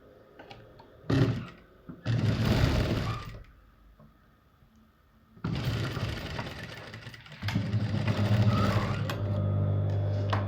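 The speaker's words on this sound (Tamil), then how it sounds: "இப்படி ஃபோல்ட் பண்ணிவிட்டு ஸ்டிச்சஸ் கொடுத்துக்கலாம்." A sewing machine stitches along the folded neckline of a short top, running in several loud bursts with short pauses between them, close by and with no talking.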